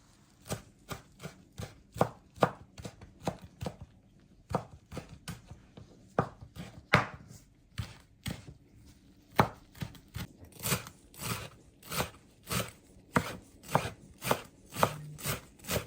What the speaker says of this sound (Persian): کریستینا میخواد سبزی که گشنیز و جعفریه رو خرد کنه